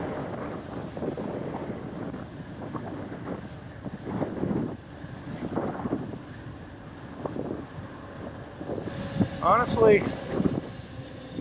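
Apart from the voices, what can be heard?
wind noise while riding an e-bike into a headwind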